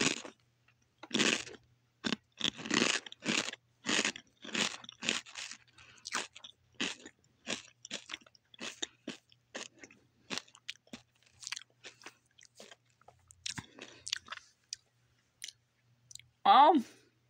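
Chips bought at an Asian market crunch close to the mic in a series of sharp, rhythmic bites and chews, loud at first then gradually softer and sparser, with a brief voice at the end.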